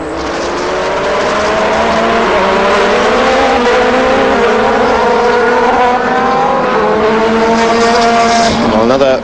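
GT race cars at Vallelunga, including a Ferrari 430 Challenge car, roar close by in a loud sustained engine howl, revs rising through several gear changes over a TV commentator's voice.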